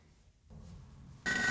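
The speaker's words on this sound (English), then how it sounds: "So what happens when a phone call comes in with Filmic?" An iPhone ringing with an incoming call cuts in loudly near the end after low background hum, a bright electronic ringtone that starts abruptly and stays short, with no speech.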